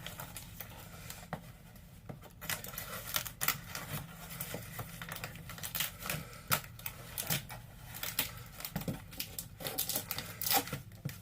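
A taped mail package being opened, with continuous crinkling, crumpling and tearing of tape and packing material close up, steady and busy throughout with no talk.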